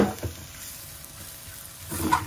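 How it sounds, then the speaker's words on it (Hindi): Beef chatkhara boti masala fries dry in a pan, giving a soft, steady sizzle with faint scraping and stirring noises near the start and end. "और तब तक भूनेंगे जब तक ये पूरा खुश्क नहीं पानी हो जाता, ये बोटियाँ बिल्कुल खुश्क हो जाएंगी।"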